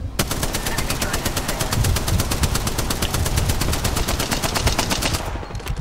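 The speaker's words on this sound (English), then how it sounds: "The enemy is here. I'm under fire." Rapid automatic gunfire in the shooter Apex Legends, a loud close burst of evenly spaced shots firing continuously for several seconds before cutting off, with no voices over it.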